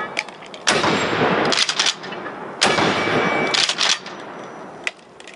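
An Akkar Churchill Shockwave shotgun fires 2¾-inch buckshot outdoors, two loud, sharp blasts about two seconds apart, each followed by a ringing tail and a faint ping from a struck target.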